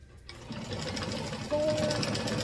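A sewing machine backstitches a zippered biker-jacket-style clutch, running as a steady close whirr that grows louder halfway through, with a voice talking alongside.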